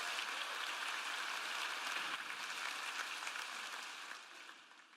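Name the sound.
audience applause in church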